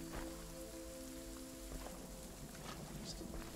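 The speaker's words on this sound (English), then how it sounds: "this rain effect is weird because it's like an overlay" Steady rain on surfaces in the horror game Visage, a constant close hiss with scattered drop patter and a low background hum, with no talking over it.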